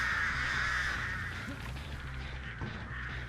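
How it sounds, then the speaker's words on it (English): Crows caw repeatedly upstairs in the Dead by Daylight horror game, harsh rasping calls over a low rumbling ambient bed, moderately loud and continuous through the moment. "So there were some crows upstairs."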